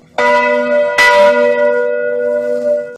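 A bright bell rings out with a clear sustained tone, struck again partway through, its resonant hum ringing on until it cuts off.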